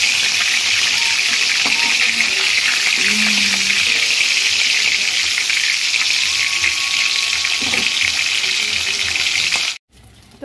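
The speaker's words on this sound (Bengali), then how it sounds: "তো দেখো এদিকে আমার মাছ ভাজা হয়ে গেছে" Fish sizzling as it fries in a pan, a loud steady crackling hiss that runs unbroken for about ten seconds before cutting out abruptly near the end.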